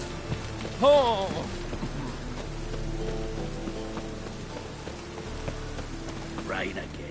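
Steady rain hisses through a scene in The Witcher 3: Wild Hunt on PS4, a soft continuous patter under brief game voices and sounds.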